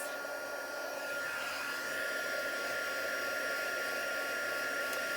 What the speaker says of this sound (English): It's a much noisier heat gun than my other one